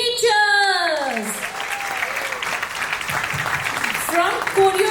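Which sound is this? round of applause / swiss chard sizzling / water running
round of applause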